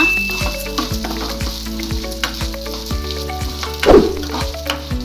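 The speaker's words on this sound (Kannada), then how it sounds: "ಈಗ ಇದಕ್ಕೆ ಸ್ವಲ್ಪ ಹೆಸರುಬೇಳೆ, ಇನ್ನು ಸ್ವಲ್ಪ ಚೆನ್ನಾಗಿ ಫ್ರೈ ಮಾಡ್ಕೊಳ್ಳೋಣ." Moong dal fries in a pan with a steady close sizzle, broken by repeated scraping stir strokes and one louder clink of a utensil against the pan near the end.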